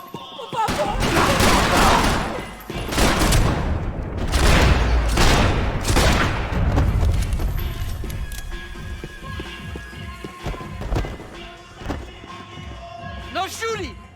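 Gunfire in the Max Payne 3 video game: several loud, close bursts of shots in the first half, fading into quieter scattered sounds later, with voices shouting over it.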